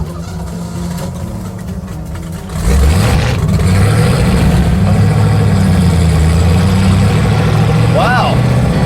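A turbocharged Datsun engine cranks and catches at about 2.5 seconds, then idles and revs steadily and loudly at close range, with pitch rising and falling as the throttle is blipped.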